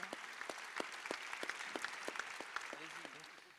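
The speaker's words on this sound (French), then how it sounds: "je préférais qu'on vous applaudisse" A small audience applauds after a round-table discussion. The clapping is faint and sparse, with distinct individual claps spread evenly in a soft, steady patter.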